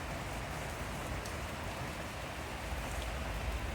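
Steady rain falling, a dense, even hiss of drops that stays constant and fairly soft throughout with no voices.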